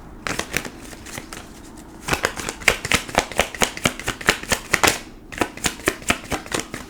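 Tarot cards being shuffled by hand, a rapid run of crisp papery riffles and slaps in bursts, close and clear with no talking.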